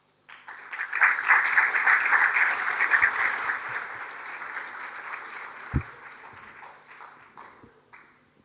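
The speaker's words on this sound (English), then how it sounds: "thanks for clapping already" An audience in a lecture hall applauds a visiting architect at a lecture in Barcelona, dense sustained clapping that swells quickly, then gradually thins and fades over several seconds.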